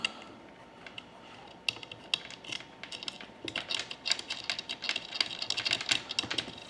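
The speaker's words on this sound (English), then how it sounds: "just get all of these nuts started on the back side of those bolts" Metal nuts being threaded by hand onto bolts behind a Crescent Shoalie SF rear adapter plate, giving a run of small, close clicks and scrapes that quicken and grow busier partway through.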